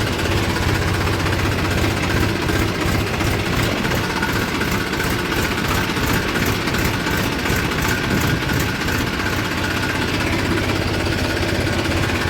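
A tractor engine idles close by in a steady, rough, low chugging rumble that holds a constant level throughout, with no talk over it.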